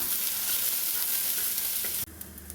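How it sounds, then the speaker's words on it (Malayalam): Spices and dried red chillies crackle and hiss steadily in hot oil, close and loud, before the sizzle suddenly drops to a quieter simmer near the end. "ഇതൊക്കെ നന്നായിട്ട് നമുക്ക് വഴറ്റിയെടുക്കാവേ"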